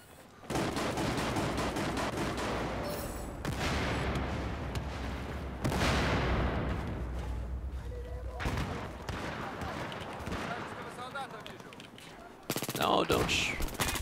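AS VAL suppressed rifle fire in Battlefield 4 on PC, long sustained automatic bursts with brief pauses between them, loud and dense, ending in a final sharp burst.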